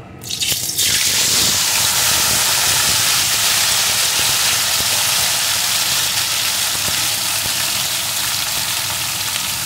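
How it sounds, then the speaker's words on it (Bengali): Sliced, washed bitter gourd drops into hot oil left from frying fish and sets off a sudden, loud, sustained sizzle that hisses steadily with no one speaking. "এখন এই তেলের ভিতরে কেটে ধুয়ে রাখা উচ্ছেগুলোকে দিয়ে দেব"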